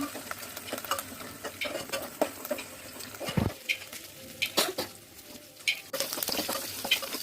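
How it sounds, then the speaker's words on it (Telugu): Mustard seeds, cumin, garlic and chili fry in oil in a pan for aloo curry, a soft crackling sizzle broken by repeated spoon scrapes and knocks against the pan. "ఆవాలు, జీలకర్ర, వెల్లుల్లి, మిర్చి వేసి కలపాలి."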